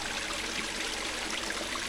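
Irrigation water flows steadily into a farm field, a continuous close rushing and trickling wash with no pauses.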